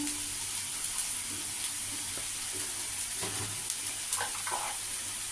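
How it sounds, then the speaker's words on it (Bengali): Onion and green chilli fry in a pan as turmeric is stirred in for a mustard hilsa dish. The sizzle is quiet and steady, with occasional soft scrapes and clicks of a utensil stirring. "এটা একটু নেড়ে চেড়ে ভাজতে ভাজতে এর মধ্যে একটু হলুদ দিয়ে দিলাম"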